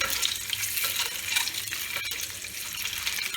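Eggs fry in ghee until golden, a continuous sizzle with soft stirring and scraping sounds at close range, moderately loud and steady, with a couple of sharper clicks partway through.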